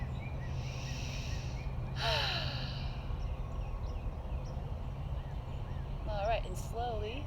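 Soft breaths are drawn and released during a slow stretching exercise, with a couple of audible inhales and exhales over a constant low background hum.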